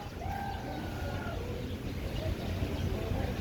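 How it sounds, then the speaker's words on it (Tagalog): Birds calling in a tall netted zoo aviary, a few faint chirps and coos heard over a steady background hum of the enclosure. "ibon or anong tawag yun sa kanila."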